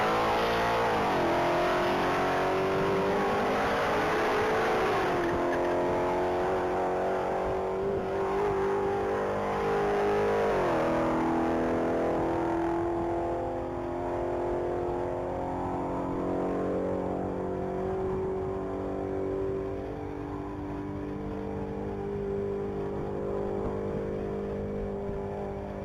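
A 2014 Mustang GT500 accelerating hard on a top-speed mile run, one loud continuous engine roar climbing through rising gear pulls with brief dips at the shifts, sustained and close for the whole stretch.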